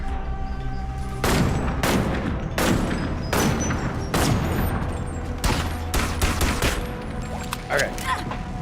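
Rapid bursts of gunfire in a VR video game played on a treadmill, loud repeated blasts in clusters over a few seconds, with a person talking faintly underneath.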